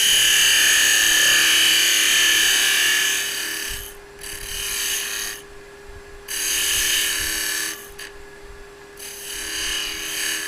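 Skew chisel cutting wood on a lathe while turning a piston box, a steady bright scraping hiss that cuts out briefly twice, leaving a faint motor hum between passes.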